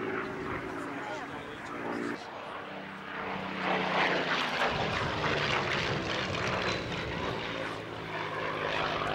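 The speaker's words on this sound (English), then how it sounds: "Pretty unmistakable crackle of that splendid Rolls-Royce Merlin engine" A Rolls-Royce Merlin piston engine of some 1,200 horsepower powers a propeller aircraft at an air show, giving a loud, sustained, rough crackling drone that swells slightly midway and holds steady to the end.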